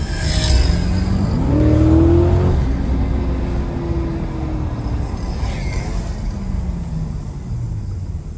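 Aston Martin DBX SUV engine under way on the road, a steady low rumble with a rising rev near the start that eases into a smooth, moderately loud drone, no talking.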